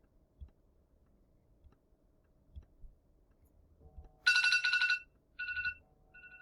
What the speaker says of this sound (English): That's my alarm going off to come and pick you guys up from recess.